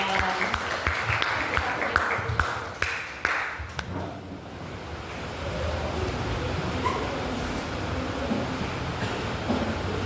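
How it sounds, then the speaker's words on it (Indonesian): Audience clapping at an event as a speaker is welcomed on stage, a burst of applause that fades after a few seconds into room noise and murmur. "Tepuk tangannya dong."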